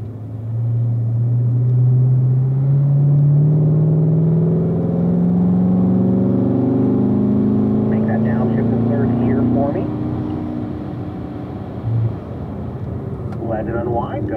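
A Corvette engine on a race track, loud and close, its droning pitch sliding through a downshift and unwinding steadily, then dropping off near the end while a person talks over it.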